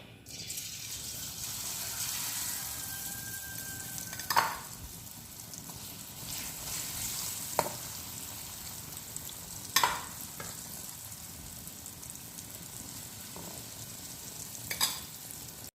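Elephant foot yam pieces fry in hot coconut oil, a steady hissing sizzle that fills the whole stretch, punctuated by a few sharp clanks and scrapes of a spoon against the pan.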